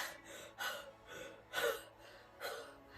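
A pregnant woman gasps for air in quick, sharp breaths to imitate shortness of breath, four or five close, breathy gulps in an uneven rhythm, with no speech between them.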